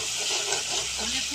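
Onion paste goes into a hot frying pan and gives a steady, even sizzle throughout, with faint stirring underneath.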